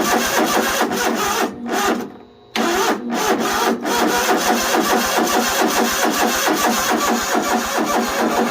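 An engine cranks over and over after a spray of brake cleaner but never fires, a loud, close, continuous rhythmic churning with a couple of brief pauses and one longer break.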